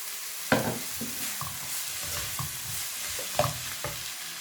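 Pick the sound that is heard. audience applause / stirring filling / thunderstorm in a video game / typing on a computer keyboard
stirring filling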